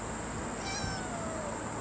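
A cat meows once, a short mid-loud call outdoors in a backyard garden over a steady background hiss, with no voices.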